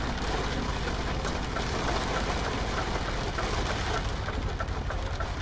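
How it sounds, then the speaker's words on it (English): Heavy rain drums steadily and loudly on a truck in Euro Truck Simulator 2, a dense unbroken hiss that fills the whole stretch without pause. "Rain is coming down hard."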